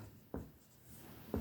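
Pen or marker writing a definition by hand, two short scratchy strokes spaced about a second apart over a quiet background, close and fairly faint.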